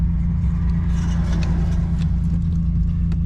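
A manual Infiniti G35 sits in first gear with the clutch held down, its engine idling in a steady, close, low rumble.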